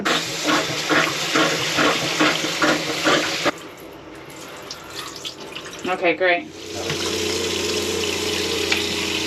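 Water runs hard from the outside shower tap on a sailboat, a steady rushing flow that cuts off partway through, then briefly returns in short spurts before a quieter hiss, with people talking over it.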